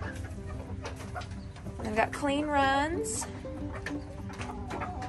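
Chickens clucking inside a coop with pine shavings, a few close, rising cackles standing out briefly midway while a person talks over them.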